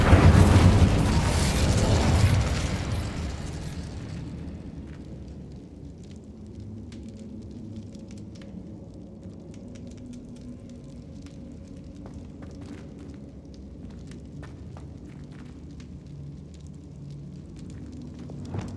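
An Incendio fire spell cast in Hogwarts Legacy bursts out as a loud whooshing roar of flame, then fades over several seconds into a low rumble scattered with crackles and small pops, with no voices.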